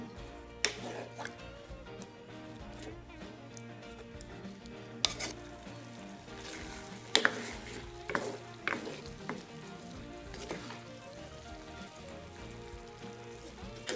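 Steady sizzling of bitter melon frying in a pan, with a spoon scraping and clinking against the metal now and then; no voices.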